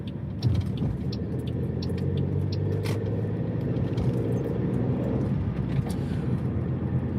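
A car driving, heard from inside the cabin: a steady low road rumble and engine hum under faint clicks and rattles, no one talking.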